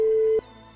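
A telephone busy signal from a comedy audio drama sounds as a single steady, loud electronic tone that stops abruptly, leaving a faint hum behind.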